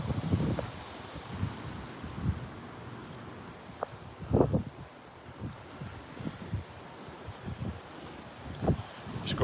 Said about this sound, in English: the winds here probably sustained at 10 to 15 and gusts maybe 20